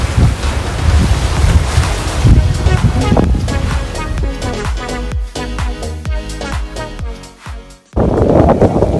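Rough ocean waves around two meters high surge against a sailboat at sea off the Spanish coast, with heavy wind rush buffeting the microphone and a sudden loud wash near the end.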